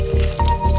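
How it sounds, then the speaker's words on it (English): Water drains from an opened bag of miracle noodles in a brief, close run of splashy drips and trickling liquid. "drain the water"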